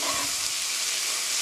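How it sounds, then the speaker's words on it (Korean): Chopped onion and garlic sizzling in an oiled pan for a mapo doufu rice bowl, a steady, close, bright frying hiss that fills the whole moment without pause. "양파가 투명하게 볶아질 때까지 볶아주세요"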